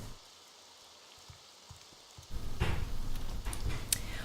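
Steady rain hisses in the video game Morrowind, a soft patter that grows denser and louder partway through, with faint scattered ticks on top.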